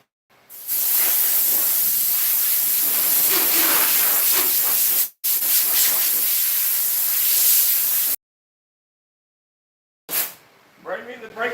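Brake part cleaner sprayed on a truck during body work, as long loud aerosol hisses: one burst of about four seconds, a second of about three seconds, then a short final spurt.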